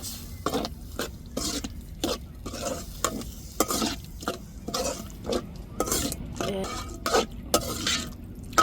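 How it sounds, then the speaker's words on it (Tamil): Water hits a hot pan of frying masala with onions, sizzling steadily while a utensil stirs and scrapes in repeated strokes, close and moderately loud with no talk. "இப்போ தண்ணி ஊற்றிக்கிடுவோங்க."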